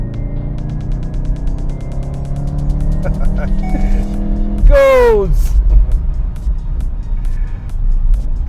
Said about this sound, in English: Acceleration of this car is crazy.